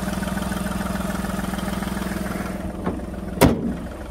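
A 2011 Volkswagen Polo 1.2 TDI diesel engine idles close up with an even, throbbing low rumble, followed near the end by a couple of short clicks and a sharp knock.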